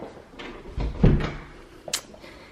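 A coat closet door in a newly toured home is pulled open with a dull thump and a brief scrape, followed by a short creak, close by and without talking.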